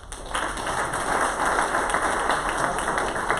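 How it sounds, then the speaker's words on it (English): Audience applause after a presentation at a digital learning event, a steady crowd of clapping hands that swells in and holds evenly throughout, dense and fairly close, with no talk over it. "Extra round of applause for that."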